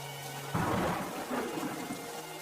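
Heavy, cold rain pours in a steady hiss while a deep roll of thunder swells up and rumbles on for a couple of seconds before easing back into the downpour, with no voices.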